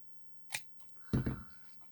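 Scissors cutting cardstock for a card layout: a short crisp snip, then a fuller rustling cut of paper, close and quiet.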